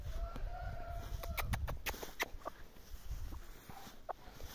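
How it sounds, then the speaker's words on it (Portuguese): Indian Game (índio) rooster crowing in a short, clipped call, with a few sharp bright bursts standing out over steady farmyard background noise, fairly close. "Fenômeno esse galo."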